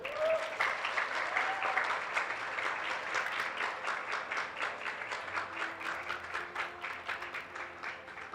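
Steady applause fills the hall at Guyana's SHOUT4Change national youth speaker finals as the second place winner is honored, the clapping dense at first and easing slightly toward the end.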